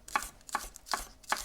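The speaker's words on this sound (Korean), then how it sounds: "이거 쪽파는요, 한 1cm 요 정도 잘라주겠습니다" A knife chopping green onions into roughly one-centimetre pieces on a cutting board: four crisp, evenly spaced chops, close and clear with no talk.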